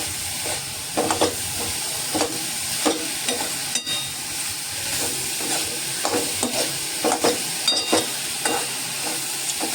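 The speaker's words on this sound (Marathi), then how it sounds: "हे सतत हलवत ठेवायचंय, नाहीतर ते खालून लागेल." A cashew and raisin puran filling is stirred continuously in a hot pan, giving a steady sizzling hiss broken by repeated scraping strokes of a spoon against the pan, close and fairly loud.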